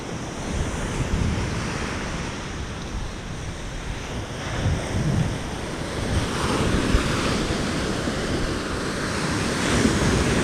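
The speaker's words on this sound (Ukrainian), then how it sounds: "Море штормить кожного дня. Кожного дня ось такі великі хвилі." Heavy Mediterranean surf pounds continuously under strong wind at Cales de Mallorca, a rough, roaring sea with big waves breaking close by, no voices.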